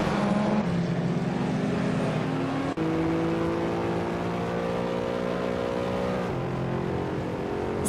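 Engine of a 1993 Porsche 928 GTS racing in a video game, a loud steady drone with rising and shifting pitch as gears change, brief dip near three seconds, continuous throughout with no talk.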